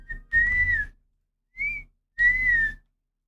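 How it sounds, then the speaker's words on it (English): Three whistled phrases of a short tune, each a clear sliding tone separated by brief gaps, close and fairly loud with no talking. "Unfortunately, that whistle is very catchy, I fear."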